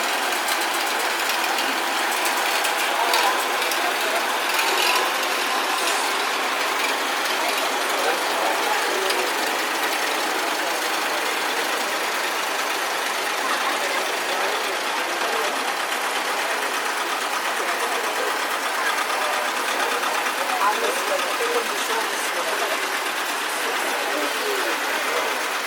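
Vintage tractor engines, including classic Ford and John Deere diesels, run at an outdoor steam and vintage machinery show at Oswestry Show Ground, making a steady, dense mechanical clatter and chugging that holds throughout with no pauses.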